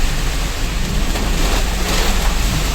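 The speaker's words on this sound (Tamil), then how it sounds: "இங்கே தான் மழை பெய்யுது" Steady rain drums on a vehicle moving near Tindivanam in Villupuram, Tamil Nadu, a dense continuous wash of noise with a low rumble underneath, no voices.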